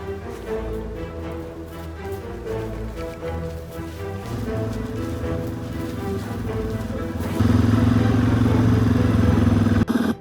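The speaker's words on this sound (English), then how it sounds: "like the vroom, the revving" An engine revving nearby, a mid-pitched humming drone that holds steady, then swells noticeably louder near the end before cutting off abruptly.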